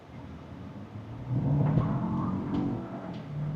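A new Renault Duster's engine climbs from a low idle into a throaty rev as it accelerates, loud and close, holding the higher pitch at the end.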